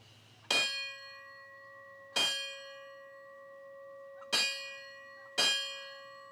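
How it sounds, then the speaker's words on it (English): Memorial bell at a firefighter memorial ceremony, struck four times in two pairs, each a bright ringing clang with a long fading hum, fairly distant and alone without talk. "He will ring the bell two times to close the ceremony."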